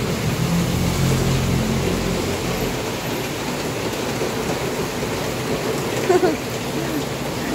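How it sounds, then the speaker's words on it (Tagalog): Steady, dense hiss of heavy rain pouring down, constant and close, with a brief louder knock near the end. "Ang lakas na ulan"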